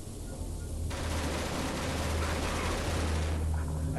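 Sustained turret fire in the sci-fi game Genesis Alpha One, a dense continuous rattle of rapid shots over a heavy low rumble, loud and close throughout.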